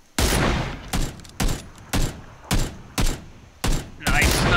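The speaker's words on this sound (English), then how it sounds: "I see a guy. I'm gonna take shots." Gunfire in PUBG, a battle royale video game, arrives as a steady series of about eight loud, evenly spaced shots, each a sharp crack with a short decaying tail, close and dominant over faint background.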